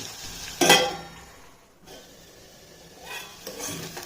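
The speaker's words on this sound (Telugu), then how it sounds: "మీరు మంచి బ్రౌన్ కలర్ వచ్చేదాకా ఫ్రై కావాలి ఉల్లిగడ్డ పచ్చిమిర్చి" Onions and green chillies fry and get stirred in a pan, a short loud burst of sizzle and scraping followed by quieter stirring and clinks of a utensil against the pan.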